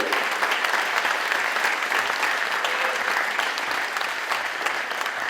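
Sustained applause from a sizeable audience, dense and even, with clapping holding at a steady level throughout.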